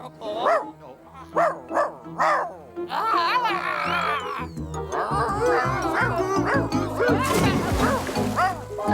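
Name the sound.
young puppy barking and whimpering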